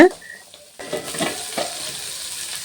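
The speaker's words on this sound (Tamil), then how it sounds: "சின்ன வெங்காயம் வெள்ளைப்பூண்டு இதெல்லாம் போட்டு நல்லா எண்ணெயில் வணக்கி எடுத்துக்கலாங்க" Shallots and garlic frying in hot oil for a Tamil sundaikai kara kuzhambu. A sharp clatter opens it, then a close crackling sizzle with scattered stirring scrapes, no talk.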